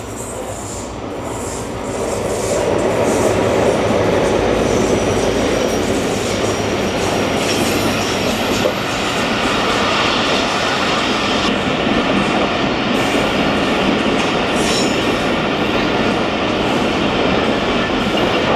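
An express train rolls slowly through Jhimpir station, a steady loud rumble of wheels and carriages with faint clicking over the rail joints, holding close and continuous without any talk.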